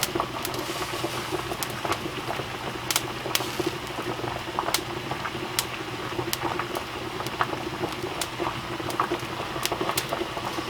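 Wax melts and bubbles together in a pot, giving a continuous soft simmer. Scattered sharp pops and crackles sit over a low, even background, with no talking.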